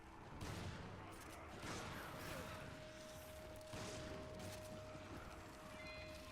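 Gunfire in Resident Evil 5, a few sharp shots spaced through the clip over a steady game ambience with a sustained tone, fairly quiet overall.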